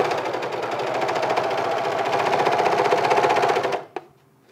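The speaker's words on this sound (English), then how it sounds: "the next step is just to serge all the raw edges for the outside panels, sew them all together" Serger stitching the raw edges of waxed canvas backpack panels, a steady loud motorized hum with rapid needle chatter that runs continuously, then stops abruptly near the end, followed by a single small click.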